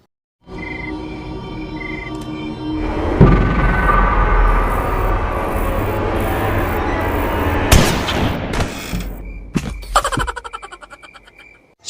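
Gunfire in the Granny 3 horror video game cracks out over a droning game soundscape, with one sharp shot followed by a quick run of decaying bangs and metallic echoes.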